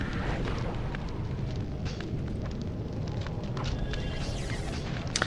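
A fire spell cast in the game Summoner, a steady roaring, crackling whoosh with scattered small pops that stays loud and even throughout.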